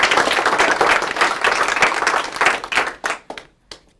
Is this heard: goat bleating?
no